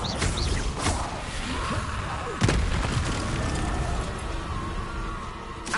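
A Confringo blasting spell explosion in Hogwarts Legacy: a sharp blast with a swooshing tail, set in a dense layer of game booms and rumble that continues throughout, with a voice speaking briefly.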